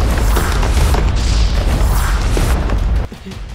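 A cartoon explosion blasts open a cliff wall, a loud sustained rumbling boom with crashing debris that cuts off abruptly near the end.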